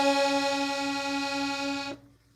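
Accordion on the musette setting holds one steady, bright reedy tone with all reeds sounding, close and fairly quiet, before cutting off abruptly near the end.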